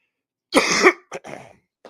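One harsh, rough cough followed by a couple of shorter throaty coughs and a faint final catch, close and otherwise quiet.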